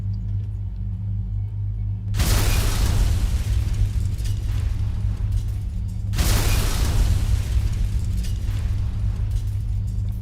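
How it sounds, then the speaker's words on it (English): Two big explosions in Fallout: A Tale of Two Wastelands, each a loud booming blast rolling into a long heavy rumble, the second arriving about four seconds after the first, with no talk. "There's a big kaboom, and I want to watch."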